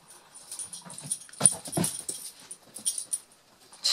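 A playful dog whimpers, whines and pants in quick irregular bursts indoors, close and fairly loud, with a few sharper yips and no talking.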